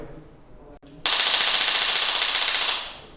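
A SIG Pro pistol firing at a shooting range gives a loud, dense burst of rapid shots that runs for about two seconds, then stops abruptly, with no talking.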